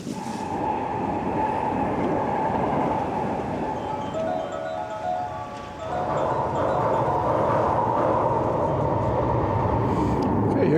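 A train pulls into a station on Japan's Fukuchiyama Line, a steady loud rumble and rolling clatter with faint metallic clinks and a brief squeal, swelling again toward the end as the cars draw close.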